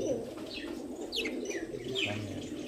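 A male pigeon at a loft coos in low, throaty repeated calls close by, with faint chirps and a brief flutter of wings around it and no speech.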